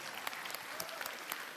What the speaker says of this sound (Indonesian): Tepuk tangan buat Khadijah.